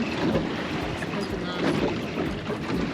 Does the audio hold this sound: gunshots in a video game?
no